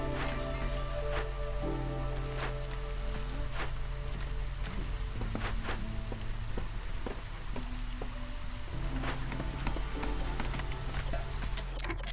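Steady rain falls in the strategy game Against the Storm, a constant wash of patter and drizzle over a woodland settlement, with faint game chimes and tones layered on top and no talking.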